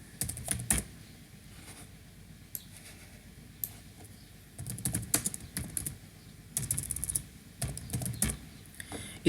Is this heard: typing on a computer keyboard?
yes